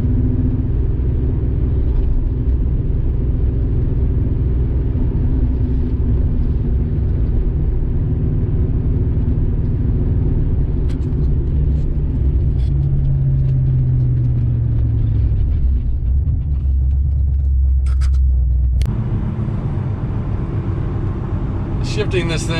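A 1981 Porsche 928 V8 fitted with an aftermarket exhaust, its deep engine and exhaust rumble droning steadily from inside the cabin, rising in pitch briefly before easing off, heard beneath someone talking.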